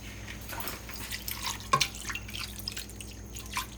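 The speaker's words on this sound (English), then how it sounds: "we're gonna add a little bit of water" A small amount of water poured into a pot of Vietnamese-style caramelized barracuda fish sauce being cooked; drips and splashes over a low steady background, with one sharper pour or splash midway, close and moderately quiet.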